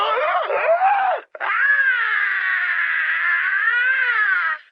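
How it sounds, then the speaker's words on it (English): A prisoner in the Star Wars KOTOR II video game lets out anguished wailing screams, a short cry, a brief break, then a long sustained howl, loud and alone. "Then I will have to settle for your screams."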